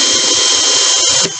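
A power drill whirs loudly and steadily at close range, its pitch dipping briefly near the end as it bites in.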